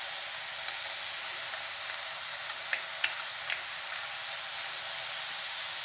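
Moong dal and tomato go into fenugreek bhaji that is already sizzling, giving a constant bright hiss with a few faint ticks and clicks of ingredients landing in the pan, no voices.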